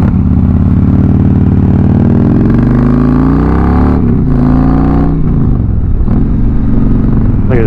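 A car engine revs and drones loudly close by, its pitch rising and falling over several seconds as the vehicle passes, with some rattling clatter; no one speaks.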